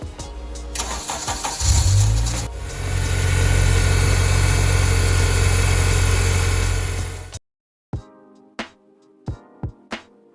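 A Honda Civic at a smog check cranks and catches, then settles into a steady mid-pitched idle for several seconds before cutting off, followed by a few sharp knocks.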